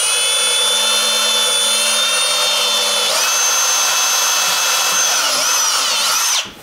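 A close, loud electric drill runs at high speed into hard old wood, its pitch rising partway through and wavering as it bores, then cutting off abruptly at the end.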